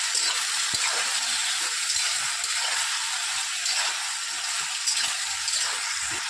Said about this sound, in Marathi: आता त्यामध्ये आपण लगेच हे वांग्याचे काप टाकूया, परतवून घेऊया।